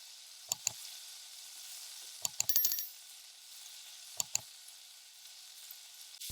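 Mushrooms, shallot and garlic sizzling in butter in a pan, a soft steady hiss throughout, with a few sharp clinks of a utensil against the pan in pairs, close and fairly quiet.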